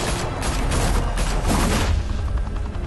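Dense gunfire from a firefight in the Batman: Realm of Shadows game, a loud continuous barrage of overlapping shots and booms that thins slightly near the end.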